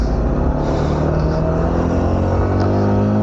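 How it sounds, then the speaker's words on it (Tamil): The engine of a 2025 Yamaha R15 V4M motorcycle runs close up, a steady, loud, harmonic drone without breaks or speech for just over three seconds. "வண்டி சவுண்டு பயங்கரமா இருக்குங்க"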